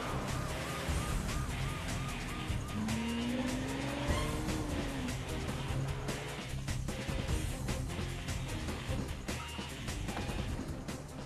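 On a highway, a car speeds off with tires squealing in a rising skid, engine roaring beneath a dense film soundtrack mix that stays loud throughout.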